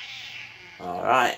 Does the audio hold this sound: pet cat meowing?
yes